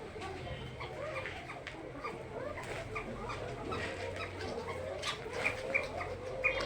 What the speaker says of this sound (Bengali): আমার কাছে সাদা, কালো, সবজি, ঘিয়া, লাল, শালিক সব ধরনেরই কোকা কবুতর রয়েছে।